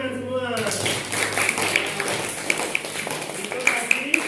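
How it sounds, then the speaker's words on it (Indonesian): A classroom of students claps hands for a classmate, scattered light claps and taps with chatter and voices mixed in throughout. "Bagus, tepuk tangan semua"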